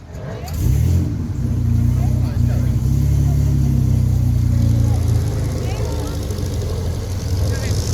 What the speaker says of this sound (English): As we have a Edwardian racer on the hill now in the form of the Berlier.